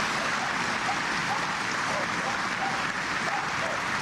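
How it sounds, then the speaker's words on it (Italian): Applause from a crowd greets the coffin arriving at a funeral, a steady dense clapping held at even loudness throughout with a faint murmur of voices beneath. "Al suo arrivo il feretro è accolto da un applauso"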